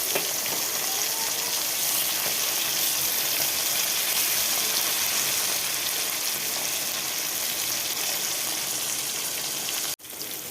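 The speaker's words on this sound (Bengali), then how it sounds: "তো বন্ধুরা মাছটা ভাজা হয়ে গেছে, আমি তুলে নিচ্ছি।" Fish frying in a pan of hot oil, a loud, close, continuous sizzle and spatter that cuts off sharply near the end before resuming, with no talking.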